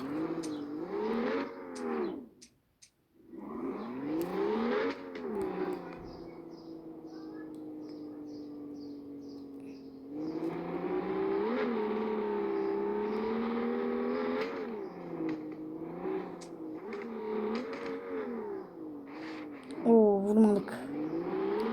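Car engines rev and race in the online driving game Drive Zone Online, rising and falling tones that surge loud and hold, with a brief dropout and a voice talking over parts of it.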